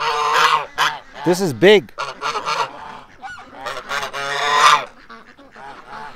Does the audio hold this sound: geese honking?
yes